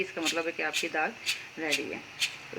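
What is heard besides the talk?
No distinct noise like a dog, phone or traffic.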